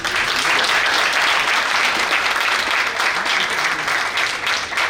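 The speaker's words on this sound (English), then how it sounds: "And I think that alone requires a big round of applause" Steady, full audience applause fills a panel discussion about parenting, a thick continuous patter of many hands clapping at an even level throughout.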